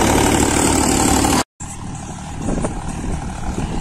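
A tractor engine, a 5620, idles close by in a steady low rumble, cutting out to silence for a moment before picking up again with a slightly rougher running note.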